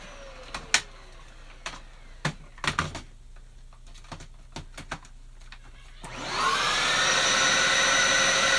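Scattered clicks and light knocks come first, then a reconditioned vacuum cleaner on its full kit starts up and holds a loud, steady whirring roar close by.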